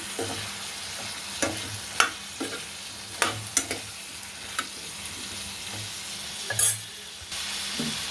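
Kakrol and potato fry being stirred into hot spiced oil in a pan: a soft background sizzle broken by repeated spatula scrapes and clinks at irregular intervals, close up and without speech.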